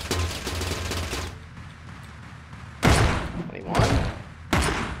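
Gunfire in the video game Teleglitch: a low mechanical drone gives way to three loud, close bursts of rapid shots with short gaps between them, each ending abruptly.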